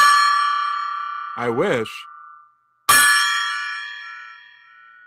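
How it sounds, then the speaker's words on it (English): A golden-coloured good-luck gong rings out with a bright, sustained metallic tone that slowly decays, a voice speaks briefly over it, and then a second loud strike sounds and rings on, fading. "let's ring the gong"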